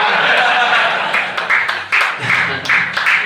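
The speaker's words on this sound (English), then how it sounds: "Why are we clapping?" A comedy club crowd claps in scattered bursts during a stand-up set in New Jersey, fairly close and steady, with no voices over it.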